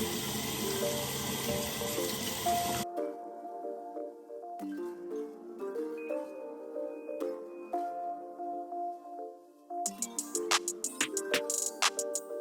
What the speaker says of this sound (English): I want to keep the water running